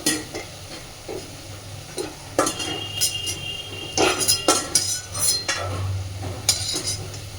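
Fried red-lentil fritters lifted out of hot oil make a low, steady sizzle, with sharp metal scrapes and clinks of a slotted spoon against the pan repeating every second or so, close and clear.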